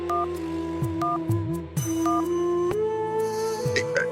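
A telephone being dialed, its paired-tone keypad beeps sounding in a series of short presses spread over a few seconds, with faint background sounds and no speech.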